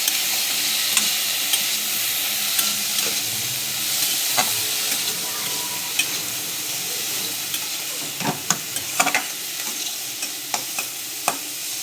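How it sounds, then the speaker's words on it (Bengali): Teasel gourd (kakrol) frying with onion in a pan: continuous moderate sizzle with scattered sharp clicks of a spatula stirring against the pan. "কাঁকরোলটাকেও আমি ভাজবো, একটু পেঁয়াজের সঙ্গে ভাজবো।"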